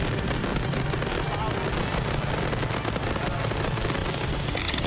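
Powerful fireworks at a pyromusical show burst in a dense, continuous barrage of crackles and booms, loud and unbroken throughout.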